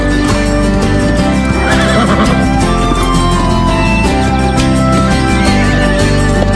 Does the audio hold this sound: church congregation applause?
no